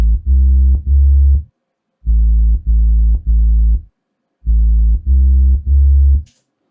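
Deep sub bass from a song mix, heavy and loud, pulsing in three groups of three sustained notes separated by short gaps, with no other sounds.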